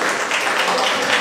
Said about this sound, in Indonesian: Wah, habis tepuk tangan untuk Bunda Dumi.